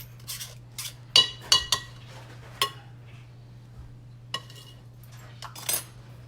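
Cutlery clinks and scrapes against a dish as chicken for a Parmesan chicken casserole is cut up, with several sharp metallic taps in a quiet kitchen under a low steady hum.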